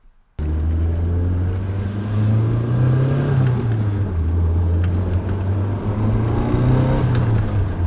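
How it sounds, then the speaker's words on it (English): The turbocharged engine of a custom widebody Nissan 240SX revs loud and close, rising and falling through several sustained pulls with a faint turbo whistle over the deep engine drone. "Oh, that turbo sounds so good."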